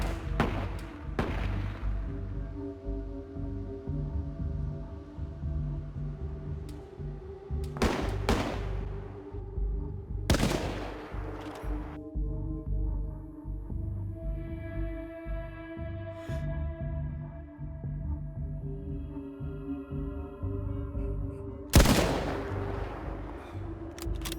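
Gunfire in the survival video game DayZ, scattered sharp shots and booming reports spaced irregularly over a low ambient background, some single cracks and a few close, louder blasts.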